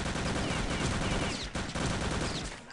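Dense crossfire in Return to Castle Wolfenstein, rapid overlapping rifle and machine-gun shots in a loud, continuous barrage with a brief dip midway, no talking.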